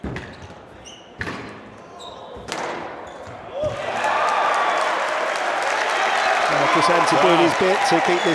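A partisan crowd at the J.P. Morgan Tournament of Champions squash event in New York claps and cheers, swelling into a loud, sustained roar after a few sharp thuds, with a commentator's voice running over it.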